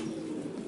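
Pigeons cooing in a breeding loft, a low steady murmur of coos that runs without a break through a short moment.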